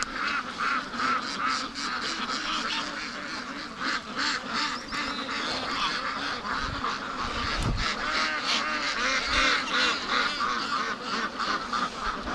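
A flock of ducks quacking and honking continuously in a pen, many overlapping nasal calls in a busy rhythmic chatter, close and loud throughout.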